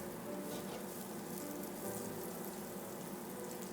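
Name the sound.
butter browning in a frying pan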